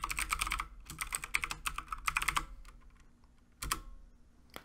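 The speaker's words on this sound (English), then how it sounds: "you'll just type in jar-tf and then the name of your file" A command typed on a computer keyboard, a quick close burst of key clicks, a brief pause, another short flurry, then a final pair of keystrokes after a quiet gap.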